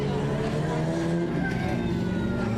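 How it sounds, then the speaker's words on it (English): A pack of 600cc non-winged micro sprint cars races at a speedway, engines buzzing and whining at high revs with overlapping pitches, loud and continuous, while an announcer talks over them. "I hear the buzz of a mini sprint"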